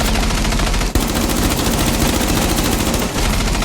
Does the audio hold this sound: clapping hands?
no